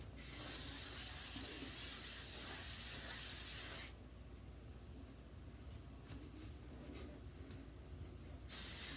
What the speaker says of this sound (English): now I will take my hairspray that I showed you earlier